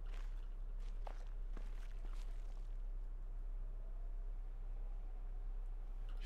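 Soft footsteps on gravel in The Witness crunch at a walking pace for the first couple of seconds, then give way to a quiet, hushed ambient outdoor bed with no voices.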